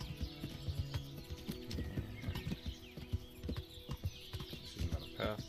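A horse's hooves clip-clop in an irregular walking rhythm in Kingdom Come: Deliverance, fairly faint and continuous, with light ambient sounds behind.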